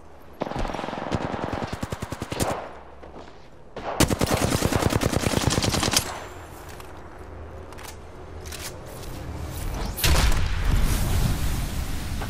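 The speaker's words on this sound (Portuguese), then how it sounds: "Tacaram granada." Rapid machine-gun bursts and single shots crackle through a video game firefight, with a sudden heavy blast near the end that fits a grenade going off amid the shooting.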